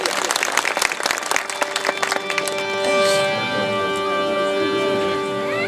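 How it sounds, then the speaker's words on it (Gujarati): Audience at a devotional santvani music gathering in Beraja village claps loudly for a performer, dense applause for about two seconds that fades under a sustained harmonium-like drone and tones, with some voices mixed in. "બાપુ શૈલેષ બાપુને એકવાર જોરદાર તાળીઓના ગડગડાટથી વધાવ્યા"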